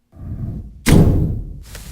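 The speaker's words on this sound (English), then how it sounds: "Sounds like a drawer." A short scraping slide followed by a louder hollow thud, a drawer being pulled open in the game Payday 2, close and brief.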